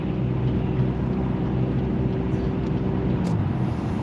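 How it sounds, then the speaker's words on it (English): A steady car engine drone fills the cabin with a constant low rumble and road noise, heard from inside the moving vehicle as it accelerates during a driving lesson. "You can hear the motor when I accelerate."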